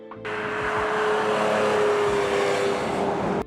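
A powerful Ferrari flat-12 engine drones loudly at a steady pitch for a few seconds, a continuous high-revving roar.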